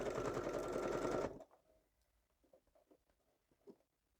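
A sewing machine runs a zigzag stitch in a loud, steady burst for just over a second, then stops, leaving quiet handling clicks and taps.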